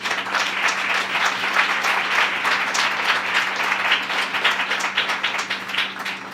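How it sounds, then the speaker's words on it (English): Sustained round of applause for the Giller Prize jury at the 2014 Scotiabank Giller Prize shortlist announcement, a crowd clapping steadily and densely for several seconds with no voices over it. "I think they should get a round of applause"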